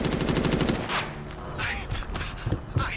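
Shotgun and other gunfire in the zombie video game No More Room in Hell 2: a fast run of repeated shots, then scattered heavier blasts over constant game noise.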